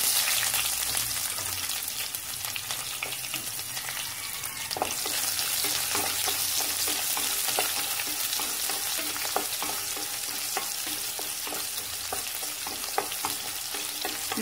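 Red chili and onion fry steadily in a pan, a continuous close, bright sizzle with occasional crackles and spatters throughout, no voices over it.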